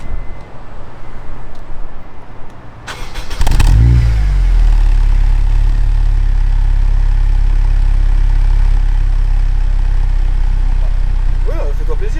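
A Honda motorcycle engine starts with a short cranking clatter and then settles into a loud, steady idle close by, with a person talking over it before it fires up.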